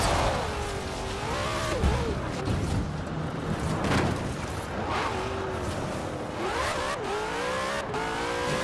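A sports car engine revs hard and climbs as it accelerates to top speed, near 330 km/h, with rising gear-change sweeps and steady loud engine roar throughout.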